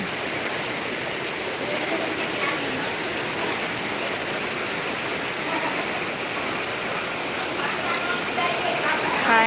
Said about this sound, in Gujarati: બધા અહીંયા બેઠા છે અને વરસાદ અહીંયા ચાલુ છે